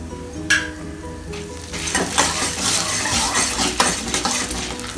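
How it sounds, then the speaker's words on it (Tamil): Dried red chillies frying with roasted Bengal gram in a pan: a loud, dense, continuous sizzle with crackling and stirring scrapes throughout, close up and with no voices. "காஞ்ச மிளகாய் போட்டாச்சு"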